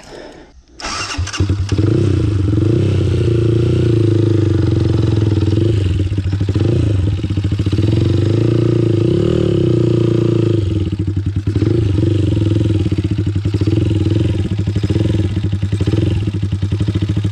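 A motorcycle engine catches and then runs loud and close for the whole stretch, holding a steady throaty drone with small rises and dips in throttle and no break.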